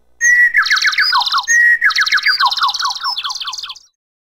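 Songbird chirping sounds close and clear in two quick phrases of rapid, descending tweets and whistled notes, then stops abruptly.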